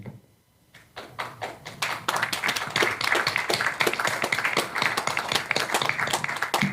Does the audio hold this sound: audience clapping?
yes